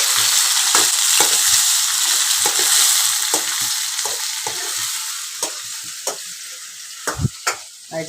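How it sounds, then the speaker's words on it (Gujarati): A dry vegetable curry being tempered in a pan gives off a steady, loud sizzle and frying hiss, with repeated clinks and scrapes of a spoon stirring through it. The sizzle eases slightly toward the end as the stirring knocks grow sharper. "સૂકી ભાજી વઘારે છે।"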